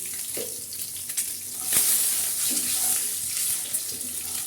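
Egg curry sizzles in a pan while being stirred, with a steady frying hiss, soft clinks and scraping from a spatula, and occasional louder knocks against the pan, with no talking.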